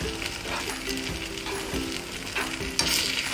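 Vegetables cooking in a pan with cornflour slurry for restaurant-style paneer chilli, a steady sizzle broken by repeated scraping stirs, moderately close, with no talking.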